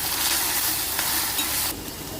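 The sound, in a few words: frying ginger garlic paste on medium flame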